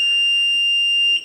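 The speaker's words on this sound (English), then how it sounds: "you're going to hear a long beep and see a green flash here, meaning the code has been added" A Kwikset SmartCode smart lock gives a single sustained high-pitched electronic beep confirming a code was added, clear and steady, holding for over a second before cutting off.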